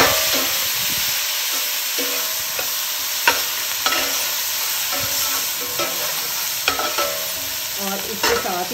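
Ginger and garlic paste sizzles and fries in a pan for beef pulao, with steady crackling and occasional louder stirring scrapes, heard close and without talk.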